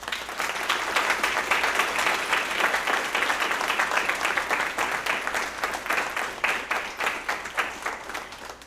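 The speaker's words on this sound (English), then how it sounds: "Let's give them a great round of applause." Audience applauding band seniors at a spring band concert, a dense steady wash of clapping from a crowd that carries on at full strength throughout.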